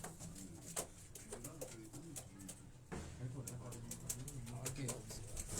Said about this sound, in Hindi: तो ये तनवीर भाई के जो ब्रीडर कबूतर हैं ये वो हैं।